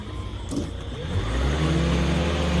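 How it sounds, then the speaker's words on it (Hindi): A car stuck off the road roars as it is towed free, its engine revving in a low, steady rumble that climbs and grows louder over a couple of seconds. "क्या दोस्तों ये गाड़ी निकल पाएगी?"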